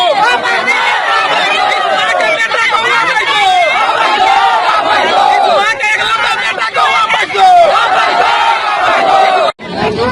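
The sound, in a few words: angry crowd shouting at a protest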